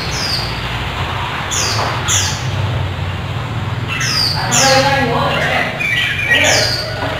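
A caged decoy white-breasted waterhen at a bird seller's calls in a series of sharp, squawking notes that repeat at uneven intervals over steady low background noise.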